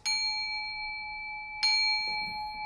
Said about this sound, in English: I have a small bell, and I ring it twice.